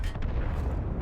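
A single booming shot from an FV4005 tank gun in World of Tanks, loud and close, with a dense low rumble that fills the whole short moment.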